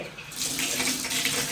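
Water gushes steadily from a hotel bathroom tap, a loud, continuous hiss and splash that swells slightly after the first moment and keeps running without pause.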